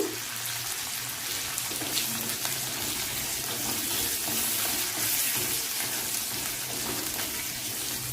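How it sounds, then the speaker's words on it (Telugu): Curry leaves fry in hot oil as the tempering for Mumbai-style vada pav filling, a steady, loud crackling sizzle that holds for about eight seconds with no talking over it. "కరివేపాకు బాగా వేగాలి వేగిన తర్వాత కొంచెం ఇంగు వేసుకుందాము"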